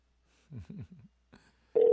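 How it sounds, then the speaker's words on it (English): A telephone ringback tone on an outgoing call starts abruptly near the end and holds as a loud, steady electronic tone, after a few faint murmuring sounds and a short quiet gap. "You can hear the phone ringing."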